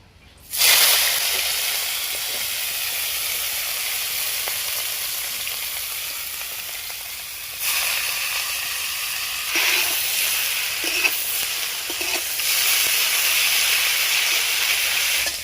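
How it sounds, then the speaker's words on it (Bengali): Salted, turmeric-coated mushrooms frying in mustard oil in a wok, with a loud continuous hiss and sizzle that surges a few times when stirred. "মাশরুমটা আমার ভাজা হয়ে গেছে, আমি এবার মাশরুমটা নামিয়ে নেব।"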